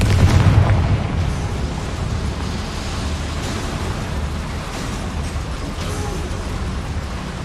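The Confringo fire spell in Hogwarts Legacy lands with a deep booming burst, then a long rumbling, crackling fiery roar that holds steady and loud.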